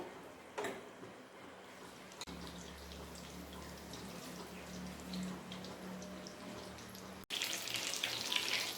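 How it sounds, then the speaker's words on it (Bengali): Chicken pieces being fried one at a time in hot oil for Indian chilli chicken, giving a steady close sizzle and crackle that rises louder near the end, with no talk. "এবার আমি চিকেনগুলো এক একটা করে আমি ভেজে নেব।"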